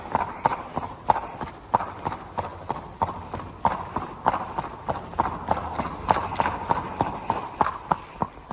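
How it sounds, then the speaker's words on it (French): Horse hooves clip-clopping at a walk during a ride, crisp regular strikes close by, several per second in a steady rhythm over a low background. "Je vous laisse juste profiter du bruit des sabots parce que je sais qu'il y en a plein qui kiffent ça."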